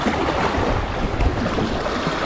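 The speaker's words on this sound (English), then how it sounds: "Gonna have to try and not get caught in the waves" Sea waves wash and roar along a Scottish shoreline, mixed with gusty wind buffeting the microphone, loud and continuous with no voices.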